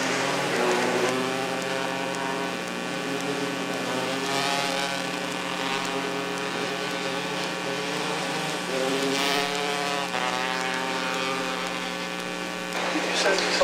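Sportsman race cars rolling onto a speedway before a heat race, their engines blending into a steady, layered drone with slowly shifting pitches over a constant electrical hum.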